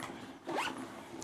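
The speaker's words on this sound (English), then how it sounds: "Let's open up the zipper pull." A quick, close zip rasps open on a Coach Large Rowan suede bag, a single short pull lasting about a quarter second against a quiet room.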